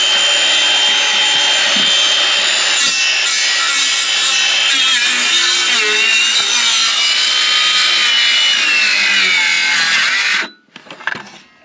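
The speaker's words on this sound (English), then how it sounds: "if I did grab this Makita saw, I can put it in here and cut further." A Makita cordless saw cuts through wood with a loud, steady rasping whine that holds for about ten seconds, then stops abruptly and leaves a few short clattering knocks.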